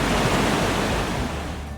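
A cold glacial river rushes continuously on the Pindari Glacier trek, a loud, dense, unbroken roar of flowing water close by with no voices.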